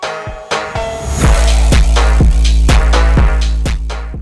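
Russian phonk track, distorted and cowbell-heavy, with booming bass kicks and a sharp cowbell riff hitting in a steady driving rhythm, loud and dense with no voices.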